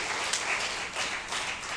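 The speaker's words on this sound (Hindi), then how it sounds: "एक बार पदम अलबेला जी के लिए तालियां होनी चाहिए।" An audience at a stage gathering breaks into applause, a brief, continuous wash of many clapping hands at moderate loudness with no speech over it.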